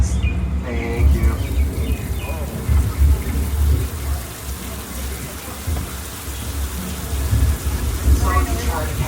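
Steady artificial rain pours down on a Universal Studios Hollywood backlot tour set, a dense continuous hiss of drops splashing on surfaces, with faint voices in the background throughout.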